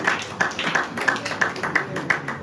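A church congregation claps in a steady rhythmic beat during worship, with voices mixed underneath the fairly loud, regular claps.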